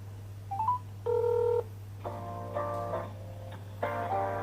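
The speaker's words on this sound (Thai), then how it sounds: "เดี๋ยวลองโทรดูนะครับ โทรแบบเปิดลำโพง" Phone dialing tones through a repaired, water-damaged Samsung A52's speakerphone: a few quick beeps, a longer tone, then several ringback-style tones over a steady low hum.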